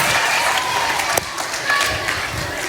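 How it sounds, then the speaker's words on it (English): Audience applause for a juggler and inspirational speaker's show, a steady wash of clapping from a crowd throughout, with a sharp louder clap near the middle and a few cheers mixed in. "can we give her one giant round of applause?"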